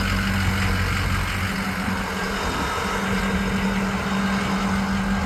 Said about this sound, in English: And then just so you can hear the exhaust as well.